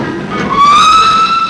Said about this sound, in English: Oh, there goes the 917 Sheffield.